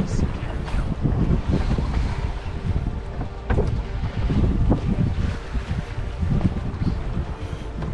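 Strong gusting wind roars steadily over a microphone aboard a sailboat at sea near shore, with water and boat noises beneath and a faint voice now and then.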